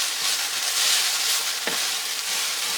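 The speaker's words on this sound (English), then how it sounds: "I'm going to turn this down just a tad and mix this in." Sloppy joe mixture stirred in a hot pan, a steady close sizzle with a soft scrape of the utensil partway through, no talk.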